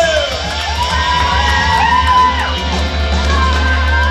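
Wedding guests at an evening reception shout, whoop and cheer loudly for a singer, a dense crowd roar of overlapping voices with a steady low hum underneath; applause is not distinct.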